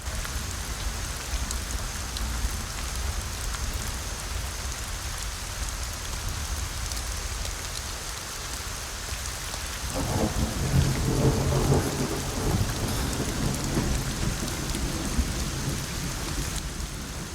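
Heavy rain pours steadily through a Hindi-dubbed suspense thriller film scene, and a deep rumble of thunder swells partway through before settling back under the downpour.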